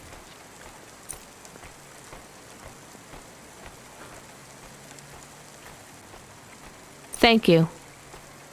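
Rain in the city of the video game Cloudpunk: soft, steady patter of drops with a few sharper ticks, faint and continuous, before a brief spoken voice near the end.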